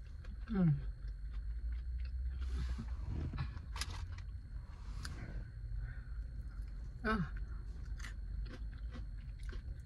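Close-up crunching and chewing of an extra crispy honey garlic Korean fried chicken wing, bursts of crisp bites scattered among quieter chewing, with a brief voice sound early on.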